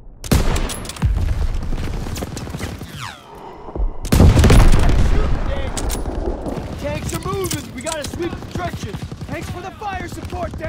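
Gunfire fills a Call of Duty WW2 battle, with heavy bursts of automatic fire, booming blasts and rapid rattling shots crowding the scene close up, while shouted voices cut in between.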